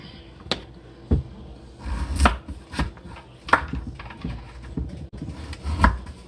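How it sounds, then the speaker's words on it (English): A knife chopping potatoes into chunks on a cutting board in a home kitchen, with irregular sharp thuds spaced about a second apart, close and fairly loud. "So now what we're going to do is cut up the potatoes."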